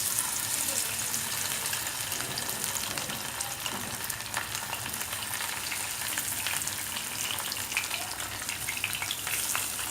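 Thin marinated phaisa fish frying in hot oil over low heat, a steady, even sizzle and crackle throughout, close by and without speech.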